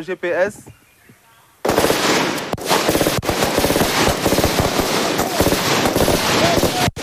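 Rapid, continuous gunfire from soldiers on a shooting exercise at a military training camp, loud volleys of sharp overlapping reports that break out suddenly after a brief voice and go on without letup.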